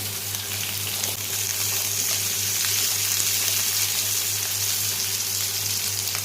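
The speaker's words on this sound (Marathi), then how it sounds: "टमाटो हे सगळं फ्राय करायचं 2-3 मिनिटं" Onion, garlic, ginger, cashews and tomato frying in a pan for malai paneer, a steady, close sizzle that runs unbroken over a low hum.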